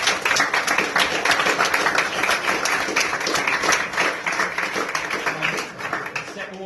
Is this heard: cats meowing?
no